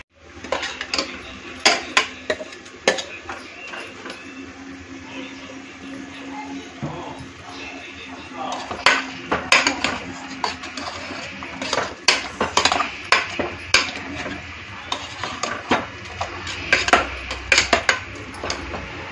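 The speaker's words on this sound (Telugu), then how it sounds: "అప్పుడే రుబ్బు పెట్టుకునే పేస్టు వేసి బాగా మిక్స్ చేయాలి" A metal spoon scrapes and clanks in a pot while country chicken is stirred with freshly ground masala paste, irregular close clatters repeating throughout over a low background hum.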